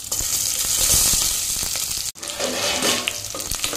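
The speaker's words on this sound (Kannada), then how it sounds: "ನೀರುಳ್ಳಿ ಸ್ವಲ್ಪ ಫ್ರೈ ಆಗಲಿ," Onions sizzle steadily in a pot of hot ghee and coconut oil, a loud, continuous frying hiss with soft stirring clatters and a brief break midway.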